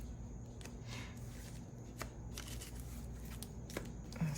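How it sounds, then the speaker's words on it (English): Tarot cards being cut and handled: soft, close papery flicks and scattered light slaps at irregular intervals over a quiet low hum. "Cut the cards a bit"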